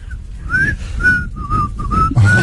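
A person whistles a wavering tune in short phrases of rising and falling notes, close and clear in a radio studio, with a faint bump of noise at the end.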